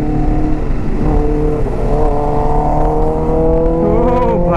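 A Kawasaki Ninja H2 motorcycle engine hums loud and close, then revs upward in a rising whine toward the end, with no talk.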